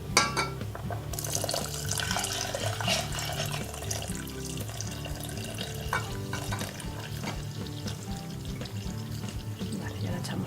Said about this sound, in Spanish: le incorporamos la leche de almendras,